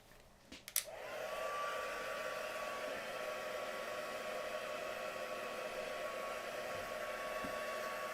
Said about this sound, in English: I'm going to have to heat dry it now.